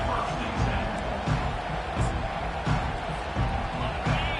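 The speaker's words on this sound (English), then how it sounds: "This crowd trying to make life miserable for this offense." Stadium crowd noise in an American football video game, a dense continuous roar with occasional swells and thumps, steady throughout.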